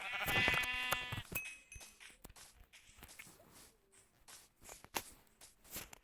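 A lamb bleats in a video game, one wavering cry at the start, followed by soft footsteps and scattered clicks.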